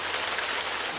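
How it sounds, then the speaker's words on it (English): Steady rain pours outside a castle, a dense, even hiss of drops on surfaces that fills the whole moment without any talking. "It's raining out there."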